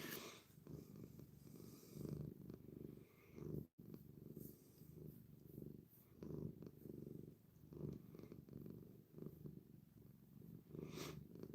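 A house cat, one of several rescue cats, purrs steadily and close by in a low, continuous rumble that pulses with each breath and runs almost unbroken, with a brief dropout partway through.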